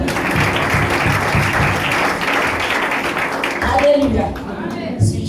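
A church congregation bursts into sustained applause and clapping for Jesus, a dense steady roar of many hands with voices mixed in, easing near the end.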